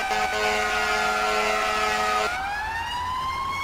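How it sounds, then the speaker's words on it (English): Fire engine siren from a firefighter mod in GTA 5, loud and close, holding a steady wailing tone before sweeping upward, alone without talk. "Siren sounds pretty good though."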